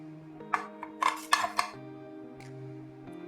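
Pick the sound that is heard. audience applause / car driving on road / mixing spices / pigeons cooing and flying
mixing spices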